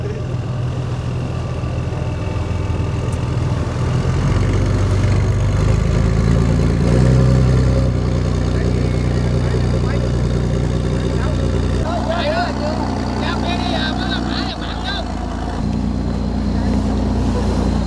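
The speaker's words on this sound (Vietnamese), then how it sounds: "Bây giờ mình sẽ đi chiếc ghe của anh Phụng nha." A motorboat engine drones continuously during a Nghinh Ông festival boat ride at Cần Giờ, close and fairly loud, with wind and people talking over it.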